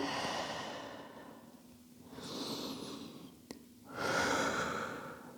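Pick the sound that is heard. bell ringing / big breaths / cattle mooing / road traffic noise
big breaths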